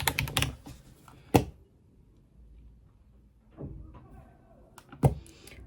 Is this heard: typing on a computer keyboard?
yes